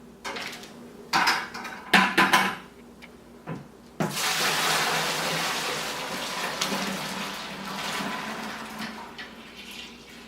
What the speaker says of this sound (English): we can pour this right back into our solution.